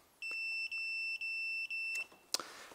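A Toyota Prius hybrid inverter/converter from a 2002–2009 car gives its high-voltage warning: a steady high-pitched electronic beep repeating four times in even pulses, followed by a short clatter, with no talking.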